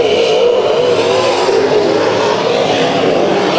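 Race cars roar through a heat race at Bakersfield Speedway, a loud, continuous blur of revving engines close by with no pause across the few seconds.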